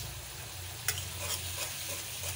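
A spice masala with coriander powder fries in oil, a soft, steady sizzle with a few faint scraping stirs, quiet and close with no talking.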